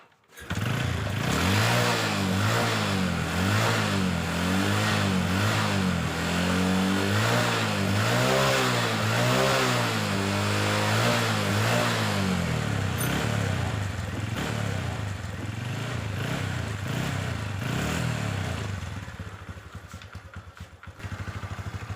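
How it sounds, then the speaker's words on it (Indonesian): Honda Revo Absolute motorcycle with a battery fault starts up, then idles with a steady, close mechanical putter and a few throttle swells, running continuously for about twenty seconds before the engine tone falters near the end. "Kita coba hidupkan motornya ya."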